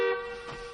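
A car horn gives one short toot, close and clear, that fades into room noise within a second.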